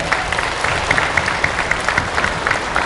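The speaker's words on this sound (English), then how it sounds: "How about another big round of applause for Colonel Morris?" An audience at a Veterans Day school ceremony claps in a short burst of moderate applause, with individual hand claps standing out in a fairly even patter that holds steady throughout.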